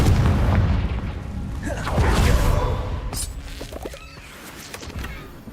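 Confringo blasting spell explosion in Hogwarts Legacy, a deep booming blast that swells, rumbles and fades away, with sharper cracks and impacts following.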